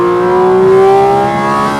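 A Porsche 911 GT4 RS with the Weissach package revs hard and accelerates on a road at night, its engine note loud and close, with a rising tonal whine held steady across the burst and no voices.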